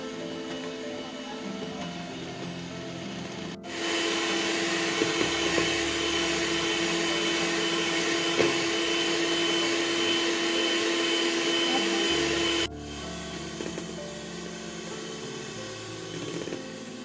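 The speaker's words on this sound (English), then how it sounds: "You can see how I am whisking it." An electric whisk beats chocolate sponge cake batter, a loud, steady motor drone switching on after a few seconds, holding for about nine seconds, then cutting off to a quieter background.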